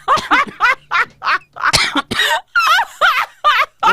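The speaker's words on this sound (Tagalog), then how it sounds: "Ubo man ko ba?" A man coughs repeatedly in a rapid string of harsh, close coughs, about a dozen bursts in quick rhythm with short gaps between them.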